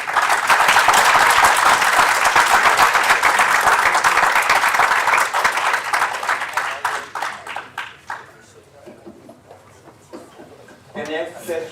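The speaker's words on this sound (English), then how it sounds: "Please give a round of applause to people who contributed and everyone." An audience at a conference session claps loudly and continuously, the applause thinning and fading away, then a voice speaks briefly at the close.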